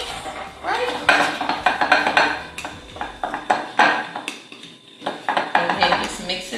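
Utensil scraping and clinking against a bowl while chicken sandwich batter is mixed, a busy run of close, irregular clatters and stirring knocks with brief gaps, and a few voices murmuring underneath.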